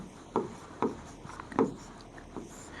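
Chalk or marker strokes on a classroom board during an anatomy lesson, four short scratchy bursts in an uneven rhythm, fairly close and quiet with no talk over them.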